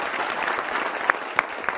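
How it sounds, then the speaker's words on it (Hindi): A student studio audience claps in steady, dense applause, close and fairly loud, with a few sharper individual claps standing out near the end. "आप अपने लिए भी ताली बजा लीजिए।"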